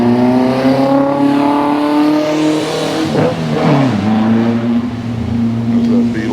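A Volkswagen Beetle drives past at a hot rod car show on the tarmac of an air museum in Santa Ana, its engine a loud, steady hum with a rise in revs midway, heard throughout over crowd noise.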